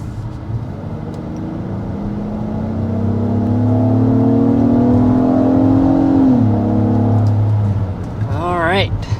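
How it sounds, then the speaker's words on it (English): A 2024 Acura MDX with a 3.5-liter V6 accelerates from a stop, its engine note climbing steadily in pitch through a smooth, loud rev before a gear change drops it back down. "taking off with this MDX, the thing that people love, or one of the things that people love most about it, is just having a smooth and powerful V6 powertrain"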